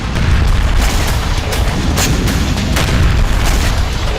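A dense, loud roar of blasts at sea in the Black Sea fills the whole stretch, a continuous rumbling barrage with sharper cracks breaking through at intervals.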